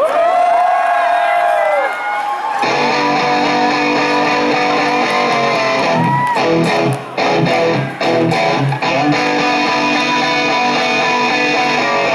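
A concert crowd at a show in Wrocław cheers and shouts loudly over the band's music, a dense continuous roar with brief dips.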